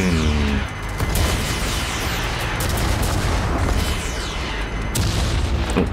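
Loud, dense gunfire in the video game Watch Dogs: Legion, sharp booming shots in rapid succession with heavy low rumble filling the whole stretch, with no talking.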